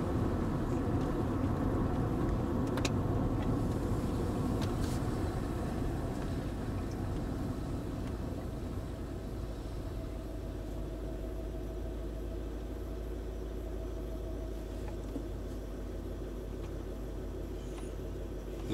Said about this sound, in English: we drive over 31 miles an hour or 50 kilometers an hour.